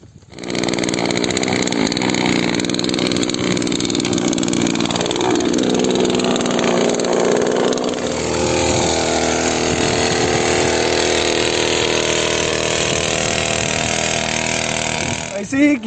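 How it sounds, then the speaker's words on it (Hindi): A small petrol engine on farm equipment, kick-started and then running steadily, a loud, continuous buzzing drone that settles into an even roar lasting throughout, with a voice speaking over it near the start. "ये देखो पेट्रोल, और ये रहता है एयर क्लीनर, इसके रहता है अंदर जाली, और ये अपनी किक मारो"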